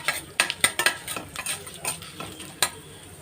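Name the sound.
lightly roasting whole spices, cinnamon, cardamom, cloves, fennel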